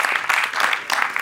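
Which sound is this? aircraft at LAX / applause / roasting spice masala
applause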